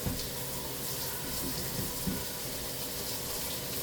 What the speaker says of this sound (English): Give it a quick little rinse.